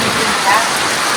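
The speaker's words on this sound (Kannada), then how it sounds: "ಫುಲ್ ಜೋರಾಗಿ ಮಳೆ ಬಂತು." Heavy rain pours down steadily as a dense, even wash of near, loud noise with no pauses.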